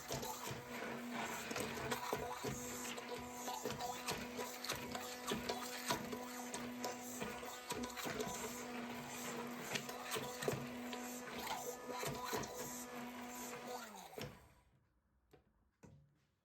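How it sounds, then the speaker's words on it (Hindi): An electric grinder blends cooked tamarind pulp and apricots for a sweet chutney, running as a loud, steady whir with a rattling edge for about fourteen seconds before cutting off abruptly and leaving near silence. "जब गल जाएं, ठंडे हो जाएं तो इनको ग्राइंड कर लेते हैं।"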